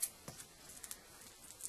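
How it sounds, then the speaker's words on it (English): Scissors snipping through duct tape at close range: a few quiet, sharp clicks and short cutting crunches spread across a brief moment, faint and alone. "I'm gonna cut a piece of duct tape about like that."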